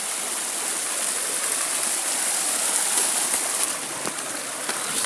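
Water from a small waterfall flows steadily in Santa Fe, a broad close rushing wash that stays constant throughout without pause.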